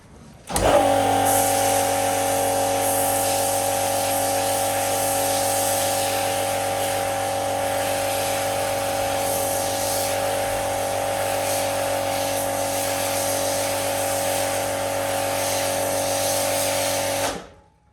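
A motor-driven pressure washer runs loudly with a steady, even drone as it feeds an MJJC foam cannon spraying foam onto a car, starting abruptly and holding constant for about seventeen seconds before cutting off.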